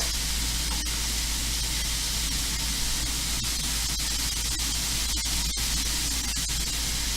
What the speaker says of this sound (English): what I plan on doing is spraying this with a little bit of the soy sauce.